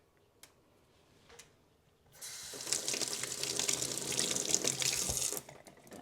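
Tap water gushes steadily into a sink while a hard-boiled egg is rinsed to wash off its shell, a few faint ticks first, then a loud continuous splashing stream for about three seconds before it cuts off.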